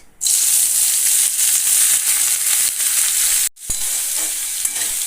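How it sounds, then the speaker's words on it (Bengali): Chopped onion dropped into hot mustard oil in a wok bursts into a loud, steady sizzle with stirring, briefly cut off near the end before the frying resumes close by. "পরিমাণ মতন সর্ষের তেল তেলটা গরম হয়ে যাওয়ার পরে আমি দিয়ে দিয়ে দিচ্ছি কুচিয়ে রাখা পেঁয়াজ"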